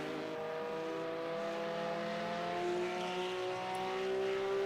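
Race cars in a sim racing league game, engines droning with rising and falling revs as the cars accelerate and brake, steady and moderately loud with no talk.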